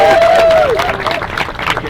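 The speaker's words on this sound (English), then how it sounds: "You can applaud if you like." Wedding guests clap and cheer at the ceremony in a short burst of applause mixed with crowd noise. A tone from a held note sounds at the start.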